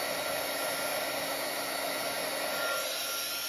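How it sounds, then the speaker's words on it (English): A hot heat gun blows air steadily for embossing, a constant loud rushing hiss that stays even from start to finish with no voices. "These heat guns are super hot."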